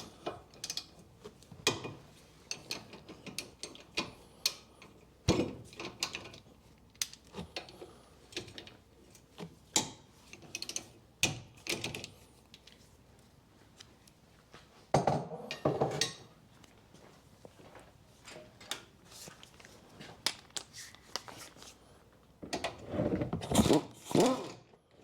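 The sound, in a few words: ratchet removing brake carrier bolts on a Mini One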